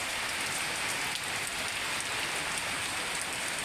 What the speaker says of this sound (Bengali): প্রচুর পরিমাণ বৃষ্টি হচ্ছে এবং সাথে ভালো বাতাস হচ্ছে।